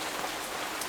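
Steady, dense rain falling and pattering on surfaces, a continuous hiss filling the moment with no voices.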